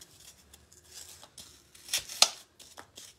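Scissors cut peat pot material into smaller pieces, a series of quiet, crisp snips and rustles with a couple of sharper cuts in the middle.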